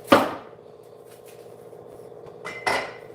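A knife chops an onion on a cutting board: two sharp, loud knocks, one at the start and one near the end, with a fainter tap just before the second and a quiet room tone in between.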